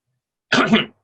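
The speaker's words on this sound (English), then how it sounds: "I've got a bit of a cough." One short, harsh cough or throat-clearing burst, close and loud, after a moment of silence.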